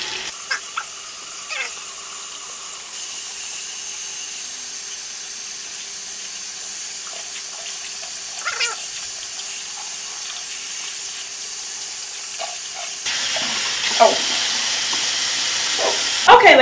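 Running water rinses conditioner from Indian hair weft extensions, a steady broadband spray hiss that continues throughout, with a few faint clicks and a brief louder burst near the end.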